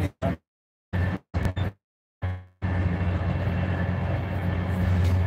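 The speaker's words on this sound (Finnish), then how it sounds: "Tää on kyllä kiva tää junamatkustus." After a few short choppy bursts, a steady low rumble of a train rolling through the Finnish countryside sets in and continues evenly, fairly close.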